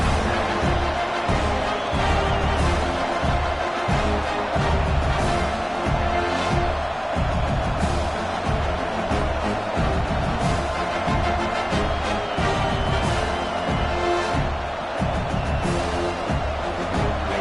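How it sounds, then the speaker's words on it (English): Dense, steady roar of a large football stadium crowd at a RAM vs USC game, a continuous wash of voices at even loudness throughout with no clear individual talk. "This crowd ready to make its presence known."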